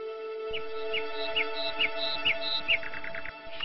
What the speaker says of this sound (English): different varieties of singing birds can also be seen on the way